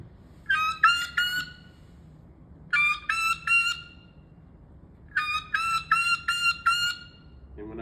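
A tube turkey call blown for high pitch gives three bursts of rapid, squeaky, high yelps, separated by short pauses, loud and close with quiet between.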